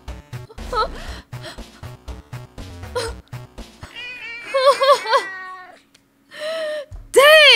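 Cartoonish cat meows from the Clumsy Paws video game, several rising and falling mews in a cluster, mixed with game music and thumps, ending on one loud, close meow.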